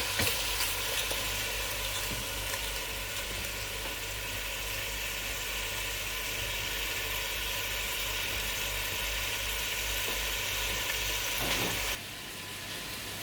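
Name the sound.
lamb meat browning in a pan for korma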